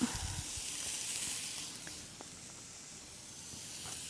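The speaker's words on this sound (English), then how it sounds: "I think you probably can hear the sizzling sounds in here" Food sizzles on a hot grill with a steady soft hiss, faint and continuous, with a few light pops near the start.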